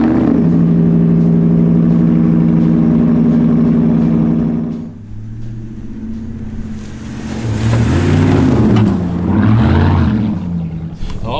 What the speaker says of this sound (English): All right, time for the cold start.